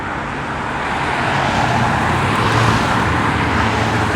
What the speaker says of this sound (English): Still a little too much traffic noise. That was a bus.